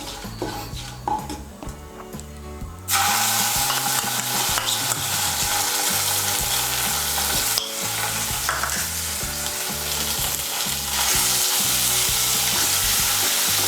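A ground paste of cumin, ginger and green chillies hits hot oil for potol borar jhol and sizzles loudly, a spoon scraping and stirring against the pan in steady strokes over continuous frying.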